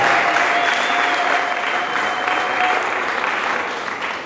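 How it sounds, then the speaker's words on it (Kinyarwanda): A large crowd applauds steadily and loudly throughout, the clapping thinning slightly toward the end. "Amashyi"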